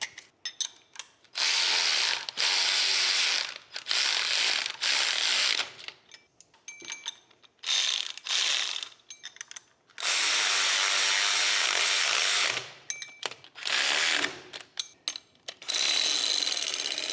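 A ratchet tightens lock nuts on a bracket while a Vintage Air compressor is installed in a car's engine bay: close, loud bursts of rapid clicking ratchet strokes separated by short pauses, with no speech.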